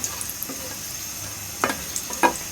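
Onion and slit dried red chillies fry in hot oil with a soft, quiet sizzle. A few sharper crackling pops stand out near the end.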